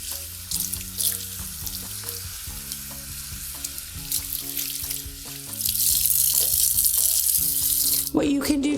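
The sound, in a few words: water from a faucet rinsing a human hair topper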